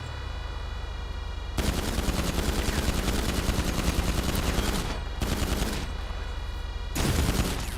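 Sustained automatic bursts from an AP pistol in GTA 5 Online, a loud rapid rattle that starts abruptly, cuts out briefly twice and resumes, with a low steady engine-like hum beneath and no talking.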